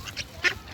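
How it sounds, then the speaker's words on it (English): A duck at a promenade pond gives a few short quacks, the clearest one loud and close, within a brief moment of outdoor ambience. "That's a duck."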